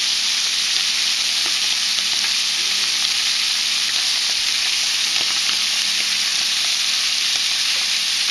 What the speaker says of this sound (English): you want to cook it like this until it's charred